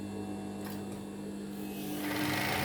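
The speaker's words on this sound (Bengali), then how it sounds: "এখন আমরা সেলাই দিব।" A sewing machine stitches small practice pieces of fabric, a steady mechanical hum running continuously at close range with a steady electrical drone beneath it, growing a little louder near the end.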